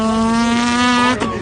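A kid imitates an F1 race car engine with his voice, a steady buzzing drone held for about a second before breaking off abruptly, loud and close, with no other talk.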